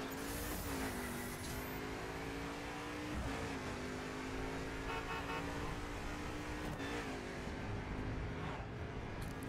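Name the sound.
Mercedes-AMG GT3 car engine revving in The Crew video game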